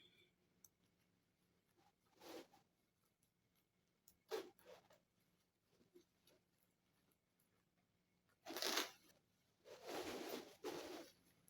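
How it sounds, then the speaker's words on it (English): A zipper is opened on a sewn kids' off-shoulder ball gown with cape, heard as a few faint scattered rustles followed by two louder, brisk zipping strokes near the end in a quiet room. "Open up your zipper."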